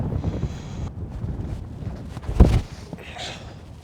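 Strong headwind gusting across an open field, rough low-frequency buffeting on the microphone with a brief louder thump partway through, a short hiss of air, and no clear speech.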